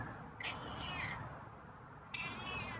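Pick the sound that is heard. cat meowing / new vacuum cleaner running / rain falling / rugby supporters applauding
cat meowing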